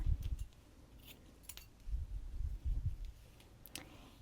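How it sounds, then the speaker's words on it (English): Scissors snip through a length of yarn while a knitted beanie with a pom-pom is being finished, giving a few soft, close clicks and cuts spread out with short pauses between them. "I am going to cut another length of yarn"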